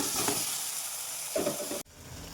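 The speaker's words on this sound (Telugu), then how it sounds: "ఇప్పుడు నేను కొరమైన ముక్కలు వేస్తున్నానండి" Korameenu fish pieces drop into a sizzling tomato, ginger and chilli paste, a loud continuous frying hiss with a brief surge of crackle, then an abrupt cut to quieter sizzling.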